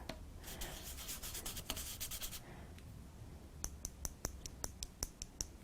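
Glitter is rubbed and burnished over a card die cut by hand, a close, dry scratchy rubbing for a couple of seconds followed by a series of short, crisp rhythmic scrapes and taps.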